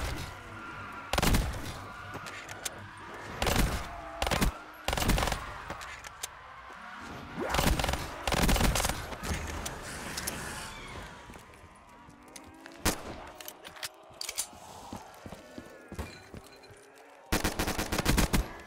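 Gunfire from a Black Ops 3 custom zombies map breaks out in repeated bursts of rapid shots, separated by short gaps. Other game noises fill the pauses, and the shooting comes back loud near the end.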